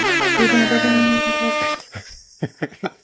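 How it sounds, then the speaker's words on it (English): A loud, blaring air horn sounds once for over a second, then a few short sharp clattering hits follow. "I need one of those air horns in the background."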